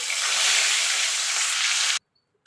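Pieces of rohu fish fry in hot oil, a dense, bright crackling sizzle held close and steady for about two seconds before it cuts off abruptly into silence.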